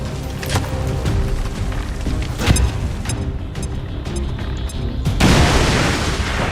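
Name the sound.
bomb explosions in XCOM 2 video game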